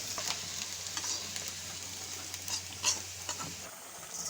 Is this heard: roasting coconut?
yes